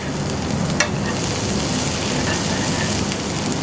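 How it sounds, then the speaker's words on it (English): Cumin seeds and shallots frying while being swirled in a hot pan, a dense, steady, close sizzle that holds evenly throughout without any speech. "half a teaspoon of cumin seeds. And we'll give that a nice swirl around. 3 tablespoons of shallots,"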